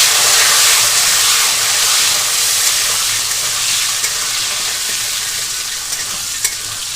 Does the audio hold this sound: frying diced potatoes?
yes